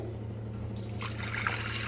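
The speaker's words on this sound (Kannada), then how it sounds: "ನೀರು ಹಾಕೋಣ ನಾನಿಲ್ಲಿ ಎರಡು ಗ್ಲಾಸ್ ನೀರು ಹಾಕ್ತಾ ಇದ್ದೀನಿ" Water trickling and pouring into a pressure cooker set on a gas stove, a steady liquid stream running for a couple of seconds at close range with a low hum underneath and no talk.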